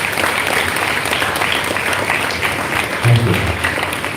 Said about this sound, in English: So can we have a round of applause for the parents too?